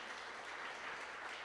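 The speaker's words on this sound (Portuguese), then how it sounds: "Vamos aplaudir o Senhor bem forte nesta manhã" A church congregation claps together during a Presbyterian service in São Paulo, a brief, dense and even burst of applause with no voices over it.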